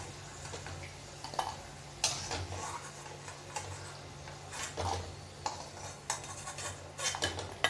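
Fried potatoes lifted out of a pan for a posto and afu bora curry, a soft series of scattered metallic clinks and scrapes from a utensil against the pan, faint and irregular over quiet kitchen background.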